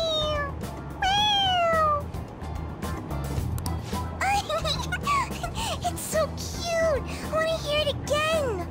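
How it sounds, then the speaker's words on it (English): A toy cat meows when pressed on its head in Persona 5 Royal, giving several distinct near, high meows in a row over a steady low train-like rumble. "It meows when you press on its head."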